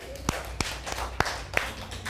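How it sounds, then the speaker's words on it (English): A class claps briefly for classmates, a few sharp separate claps spaced across the moment, fairly quiet and sparse rather than full applause. "Clap for them."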